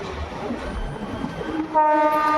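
Runicha Express passenger train rolling along the track while slowing down, steady loud rumble that turns to a sustained horn-like tone in the final second, with no speech.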